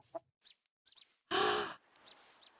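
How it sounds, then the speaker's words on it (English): Baby mobs in a video game give soft, high chirps and clucks, repeated in short pairs, broken once by a louder, harsher burst, with nobody speaking. "Oh, and the chirping sounds."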